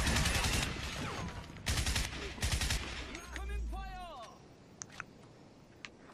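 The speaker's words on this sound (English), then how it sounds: "Incoming fire!" Bursts of rapid automatic gunfire from the first-person shooter Crysis, loud and close, in several clusters over the first seconds, then fading into scattered sharp pops and mechanical whistles.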